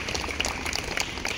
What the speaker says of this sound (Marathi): आपण जोरात टाळ्या वाजवून त्यांचं स्वागत करायचं